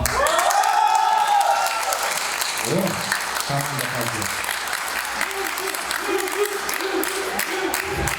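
Warm applause fills the hall at a university graduation ceremony at the Silk Road International University of Tourism and Cultural Heritage, loud and continuous from a large crowd, with a voice speaking over it partway through.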